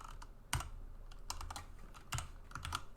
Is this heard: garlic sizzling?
no